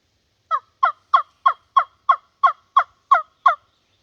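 Ten evenly spaced, crisp yelps from a wingbone turkey call imitating a hen, loud and close, with silence around them.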